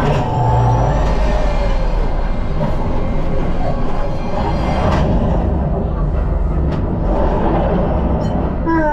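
Theme-park flight simulator ride aboard the Millennium Falcon making the jump to light speed: a loud, continuous roaring rush with rumbling low end and swelling whooshes, steady throughout with faint voices in the background.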